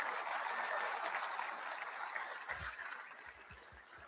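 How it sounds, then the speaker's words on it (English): Collective applause from a group at a veterans' ride orientation, a dense even wash that slowly tapers, with low thumps and faint chuckling near the end. "we're just going to have a collective round of applause for these people"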